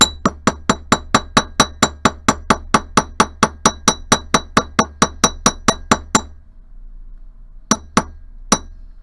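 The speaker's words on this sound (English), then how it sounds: "when I'm hammering with my chasing hammer, I want to make sure I'm always hitting with the center part of my hammer" Chasing hammer pounds wire flat on a metal block for a teardrop cabochon wrap: about two dozen sharp, ringing metallic strikes in quick, even rhythm, then a pause and three more spaced blows, close and clear.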